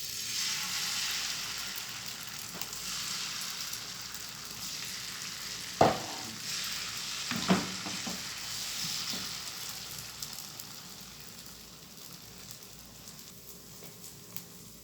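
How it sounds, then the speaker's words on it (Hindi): Paratha batter sizzles and fries steadily on a hot pan greased with a little oil, a continuous soft crackle with a couple of brief louder clatters from the pan. "गर्म हो जाएगा तो फिर हम बैटर डालते हैं।"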